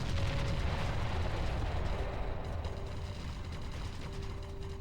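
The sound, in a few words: enemy structure being destroyed in a strategy video game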